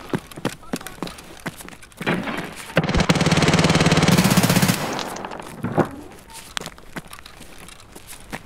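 Gunfire in the video game Escape From Tarkov in a one-on-one fight, with sharp single shots followed by a loud sustained automatic burst of about two seconds, then scattered shots trailing off.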